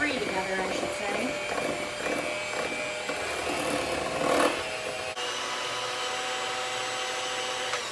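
An electric mixer whirs steadily as it blends ice cream sandwich ingredients in a bowl, a continuous motor hum with a brief louder surge near the middle, and a person talks over it.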